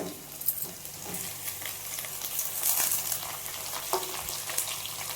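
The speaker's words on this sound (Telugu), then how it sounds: "ఆనియన్స్ వేగగా వేయించుకోవాలి" Onions and tomatoes fry in a pan with a soft continuous sizzle and occasional crackles and pops, heard close but quiet, with no talking.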